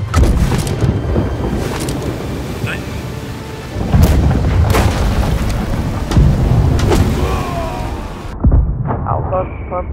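Heavy booming cannon fire from sailing ships in Blackwake, a naval battle game, with deep rumbling blasts landing one after another over constant loud roaring noise, then a sudden cutoff near the end.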